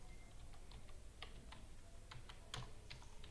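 Code is typed on a computer keyboard, a quick run of soft, close key clicks in an uneven rhythm, fairly faint and steady across the whole stretch with no voice over it.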